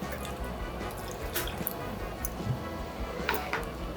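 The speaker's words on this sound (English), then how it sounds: "I'm gonna add a little bit of water to that." Water trickles and drips into a pot of thick mashed red beans, a soft, faint splashing with a few brief louder spatters.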